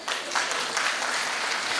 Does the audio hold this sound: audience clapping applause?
yes